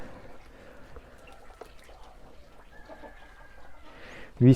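A Livenskaya Calico rooster about nine months old, clucking and murmuring faintly at a distance over low farmyard background, ending in a sudden louder burst close by.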